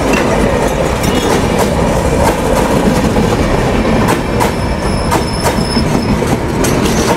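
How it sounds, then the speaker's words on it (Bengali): Down Simanta Express from Chilahati to Khulna, a broad-gauge train hauled by locomotive 6306, rolls past Daulatpur station at close range, its wheels rumbling loudly and steadily with rhythmic clacks and faint high squeals. "চিলাহাটি থেকে ছেড়ে আসা খুলনা অভিমুখী ডাউন সীমান্ত এক্সপ্রেস"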